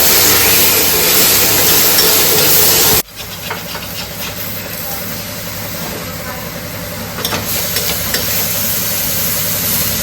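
A mixer grinder whirs loudly, grinding coconut, green chili, ginger and garlic into a wet paste for stuffed pomfret, then cuts off abruptly after about three seconds, leaving a quieter kitchen background.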